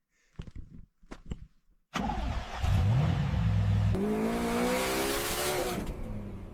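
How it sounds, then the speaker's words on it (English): A turbocharged Chevrolet Camaro engine barks into life after a few faint knocks, then revs up and holds at a loud, close, rising drone for several seconds. "Just turboed my Camaro."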